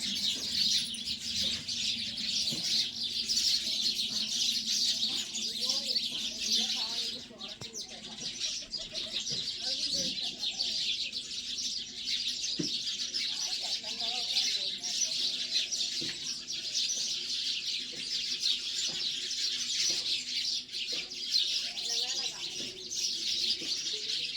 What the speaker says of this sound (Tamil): இந்த மரம் ஃபுல்லாகவே எல்லாமே குருவியாக தான் இருக்குது.